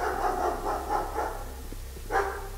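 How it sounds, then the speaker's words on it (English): Several dogs bark in the game Pathologic, a series of rhythmic mid-distance woofs repeating steadily and then one louder closer bark near the end, over a low background hum. "I hear the sounds of dogs barking."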